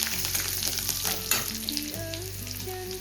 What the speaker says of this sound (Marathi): कढीपत्ता बघू शकता, छान गोल्डन ब्राऊन झाला लसूण.